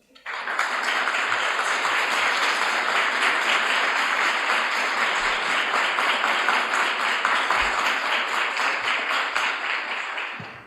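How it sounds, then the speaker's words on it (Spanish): A congregation at an annual Hispanic-American church meeting in Buenos Aires bursts into long, dense applause that starts abruptly, holds steady and loud for about ten seconds, then tapers off. "Desde nosotros a ustedes, un gran aplauso."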